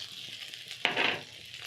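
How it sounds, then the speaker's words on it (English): Zucchini, red capsicum, carrots and corn sizzle in a pan as they are tossed with a spatula, a soft frying hiss with one sharp scrape and burst of sizzle midway. "Using a spatula, you're going to toss all the vegetables and cook for around a minute"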